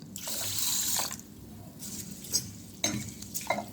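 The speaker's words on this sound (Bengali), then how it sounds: "এগুলো সব আমি প্রথমে জল পাল্টে পাল্টে ভালো করে ধুয়ে নিচ্ছি" Fenugreek seeds are washed in a bowl of water, with sloshing and swirling bursts, a brief pour and scattered splashes at close range, fairly quiet.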